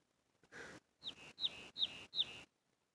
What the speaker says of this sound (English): I'm listening to a bird.